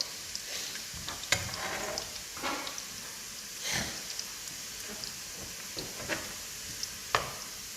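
Garlic frying in a pan, a soft crackling sizzle close by with scattered scrapes and stirring clicks from a utensil, fairly quiet overall.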